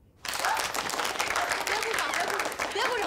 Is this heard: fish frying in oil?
no